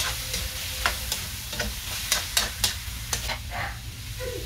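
Pork ribs sautéing in a pan give a steady close sizzle with scraping stirs and a few sharp clinks along the way, with no talking.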